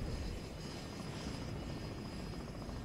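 A helicopter in the military strategy game WARNO produces a steady, loud rotor and engine roar that fills the whole stretch without pause, with no talking over it.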